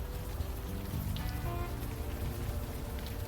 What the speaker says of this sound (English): We just like the rain.